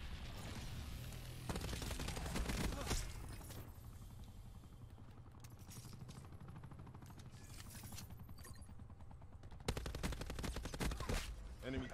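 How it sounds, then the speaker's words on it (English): Rapid-fire Hades machine gun in Call of Duty: Black Ops 4, long loud bursts of fast automatic shots with brief gaps between strings, close and punchy, with game effects and a voice talking in the background. "this gun's it shreds with rapid fire"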